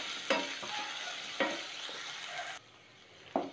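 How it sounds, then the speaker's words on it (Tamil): Onions sautéing with salt in a pan for pepper chicken, a close sizzle punctuated by a few sharp stirring scrapes, dropping to a quieter hiss partway through. "பாருங்கள், இது கொஞ்சம் பொன்னிறமாக வதங்கட்டும்"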